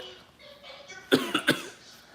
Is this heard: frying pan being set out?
no